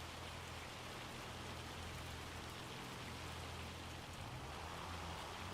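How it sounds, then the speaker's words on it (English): Hail pounds down in the farming video game Farming Simulator 25, a dense, loud, unbroken hiss of pattering impacts that holds steady throughout. "So here's the hail, which is super loud."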